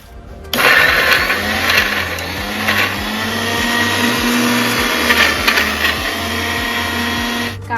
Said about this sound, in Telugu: గోంగూర తప్ప వేయించుకున్న మిగతావన్నీ మిక్సీ పట్టుకోవాలి